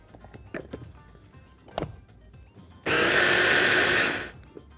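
An electric blender whirs loudly for about a second and a half, blending an orange marinade for fish in a kitchen, after a few soft clinks and handling sounds.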